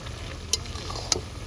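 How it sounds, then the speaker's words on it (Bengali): Meat being stir-fried with lemon over a raised flame outdoors in a forest, a low steady sizzle with two sharp metallic spatula clicks, close and brief. "ধরো এবার লেবুটা দিয়ে ফ্লেমটা একটু বাড়িয়ে এখন কিন্তু কষাবো"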